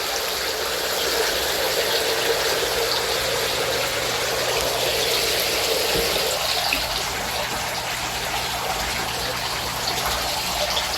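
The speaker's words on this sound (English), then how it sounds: "Got the pond pump back there in the corner doing what it does best." Steady rushing and bubbling of water from a pond pump running in a DIY bait tank, constant and fairly close, with no voices.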